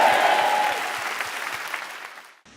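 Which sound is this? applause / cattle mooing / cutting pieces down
applause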